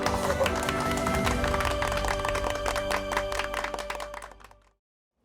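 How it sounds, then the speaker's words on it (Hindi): Applause and clapping greet a strong-woman award presentation in a sitcom scene, a dense burst of claps that tapers off and fades to silence near the end. "तालियां तालियां।"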